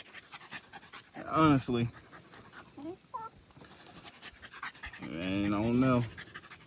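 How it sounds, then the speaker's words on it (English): An old Boston Bulldog, part Boston Terrier, pants steadily and softly close by while someone talks over it. "He's a old Boston Bulldog with a little higher percentage of Boston Terrier in him"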